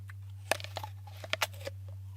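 Crisp bites and crunching chews of a fresh McIntosh apple picked off the tree, close up, several sharp cracks over about two seconds against a steady low hum.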